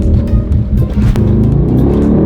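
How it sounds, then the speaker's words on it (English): A 2020 Toyota Supra engine roars loudly and steadily at close range while accelerating on a racetrack, a dense powerful drone sustained throughout with slight variations in pitch. "Oh, this car is so fast!"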